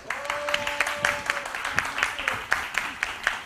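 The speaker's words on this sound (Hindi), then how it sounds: "एक बार जोरदार तालियां सब लोग बजा दीजिए प्लीज।" Crowd applause at a celebrity press meet for the comedy show Comedy Nights Bachao, a run of fairly close, rhythmic clapping bursts over a faint steady tone and room noise.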